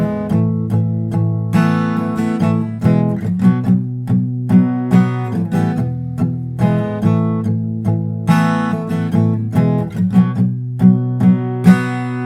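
An acoustic guitar plays a strummed chord passage from a song, mixing bright open strums with rhythmic muted strokes and quick picked accents, played close and loud throughout with no voices.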